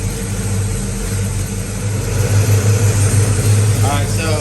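A warmed-up Pontiac GTO V8 idles close by in a steady, low rumble that swells slightly toward the end, with people talking faintly over it.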